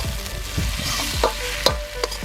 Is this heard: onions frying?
yes